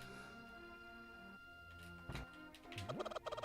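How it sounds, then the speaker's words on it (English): A chicken in a Zelda game set in a Hyrule village gives a few squawking clucks over steady looping background music, with game sound effects. "See if we can throw the chicken through the wall."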